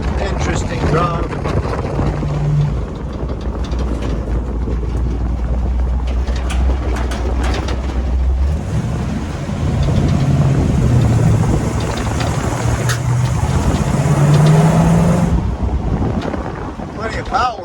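A 1950 GMC truck on an S10 frame runs without a windshield, its engine rumble half buried under loud, continuous wind buffeting that swells after a few seconds, and someone talks now and then.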